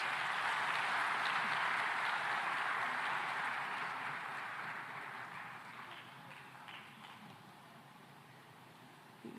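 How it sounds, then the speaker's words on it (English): A conference audience applauds with dense, continuous clapping that starts loud and gradually fades over several seconds. "let's give them a fantastic round of applause"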